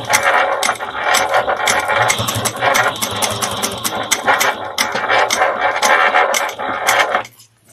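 A sewing machine backstitches over thread on a quilted barrel bag, its needle mechanism chattering in a fast, loud, even run before stopping abruptly near the end, with no talking.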